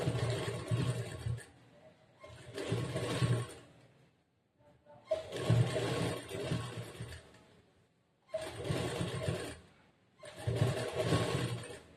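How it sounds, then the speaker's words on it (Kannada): Sewing machine stitching fabric for a puff sleeve, running in five steady bursts of whirring stitching separated by short pauses, close and moderately loud. "ಇದು ಸ್ಟಿಚ್ ಮಾಡ್ಕೊಂಡಿದ್ದೇನೆ ನೋಡ್ರಿ"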